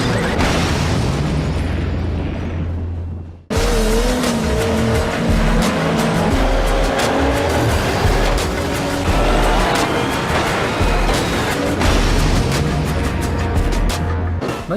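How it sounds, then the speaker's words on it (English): Motorstorm racing game cars power sliding around muddy corners, with loud roaring engines, tire squeal and skidding, plus heavy booms like crashes or explosions, running continuously apart from a brief dip near the start. "cars power sliding around corners and bikes turning circles varying drastically depending on their speed"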